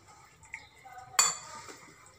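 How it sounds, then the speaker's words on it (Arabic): Metal utensils clink against a bowl while tuna and corn salad is mixed, with one sharp clink standing out among faint scraping, close and quiet. "كنخلطوا هادشي مزيان تينسجم مع بعضياتو"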